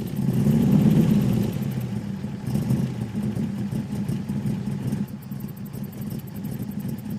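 A vintage Amilcar C6 collector car's engine runs with a low, steady rumble that is slightly louder at first, then settles into a moderate idle-like hum.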